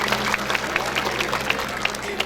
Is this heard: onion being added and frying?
no